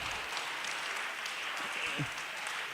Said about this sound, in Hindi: एक बार जोरदार तालियां रितेश भाई के लिए।